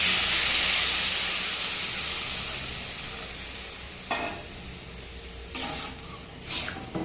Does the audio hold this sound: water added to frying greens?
yes